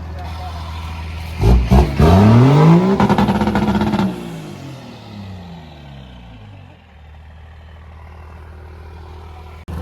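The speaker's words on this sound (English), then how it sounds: "I only got engine noise in the front." An old junkyard Ford truck engine revs up hard with rising pitch, holds briefly, then winds down and settles into a low steady idle.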